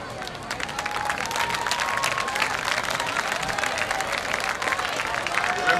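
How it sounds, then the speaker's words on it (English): Crowd at a high school basketball game between Atwater and Buhach applauds the teams in a steady wash of clapping and cheering inside a gym, continuous and moderately loud throughout. "so they deserve an applause for that alone"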